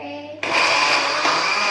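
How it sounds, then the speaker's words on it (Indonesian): A blender whirs into a loud, steady grind partway through, blending a spice paste with water for Padang-style minced beef gulai. The motor noise runs continuously after a quieter opening. "Kita blender dulu halus ini ya"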